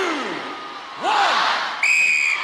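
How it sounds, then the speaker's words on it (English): A referee's whistle sounds sharply at the start of an International Gladiators event, cutting through a roaring arena crowd with cheers and whoops around it. "you will go on my whistle"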